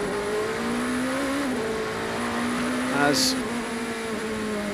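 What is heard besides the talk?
number 38 race car engine, not at full throttle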